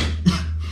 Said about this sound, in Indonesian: Saya batuk guys.